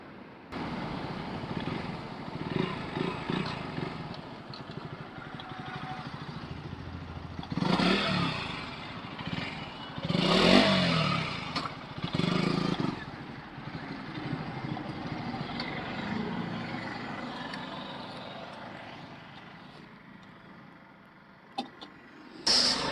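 Motorcycle engine idling and being switched off and restarted on a group ride, a steady close rumble with a loud surge in the middle, then fading before a brief restart burst at the end.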